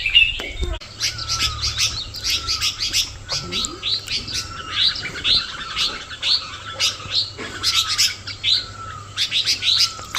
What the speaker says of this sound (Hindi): यहाँ पे चिड़ियों की लड़ाई हो गई है।